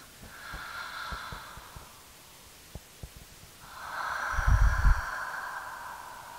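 Deep nasal inhalation during a seated breathing exercise, following a held breath on empty lungs; a faint breath is followed by a long, louder intake of air, close and alone with no talking.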